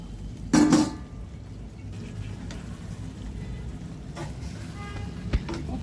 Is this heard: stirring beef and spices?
yes